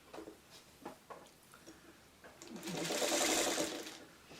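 A sewing machine stitching quilt sashing onto a block, a steady rapid whirring burst building in the second half after a few soft clicks and handling sounds.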